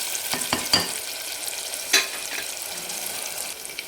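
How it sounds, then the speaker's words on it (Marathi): Mutton fat frying in a pan while being stirred, with a steady close sizzle broken by a few sharp scrapes and knocks of the spoon against the pan, and no voices. "फ्राय करून घेतो."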